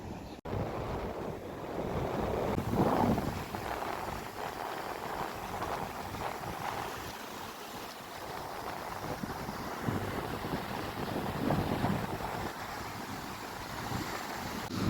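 Sea waves break and wash continuously along the shore at Mandarmani beach in the morning, a steady broadband surf roar with gentle swells and some wind noise on the microphone, heard alone without voices.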